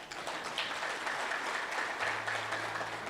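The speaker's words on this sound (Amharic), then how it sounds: "አጨብጭቡ ለራሳችሁ።" Audience applause breaks out at a motivational talk in Ethiopia, a steady wash of many hands clapping throughout, with a low hum appearing near the end.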